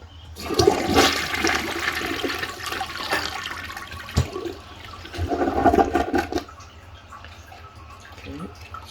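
A bathroom toilet flushes with a loud gurgling rush of water that surges, dips and surges again, then settles into a quieter trickle as the tank refills.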